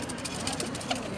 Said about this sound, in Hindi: ये भी प्रवासी कबूतर हैं